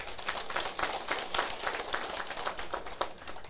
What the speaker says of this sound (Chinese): 甲拍手